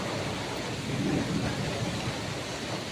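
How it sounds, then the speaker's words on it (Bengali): Heavy rain during a severe storm in the Sundarbans, hissing steadily on surfaces, with a low thunder rumble swelling midway and fading. No voices, constant and close. "বাইরে থেকে বৃষ্টি হচ্ছে তো। বিশাল বিদ্যুৎ চমকাচ্ছে"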